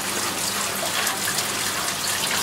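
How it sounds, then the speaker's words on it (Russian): Tap water runs steadily over cut potatoes being rinsed of starch, a continuous close splashing stream with no pauses and no talking. "Сейчас я смываю крахмал картошечки."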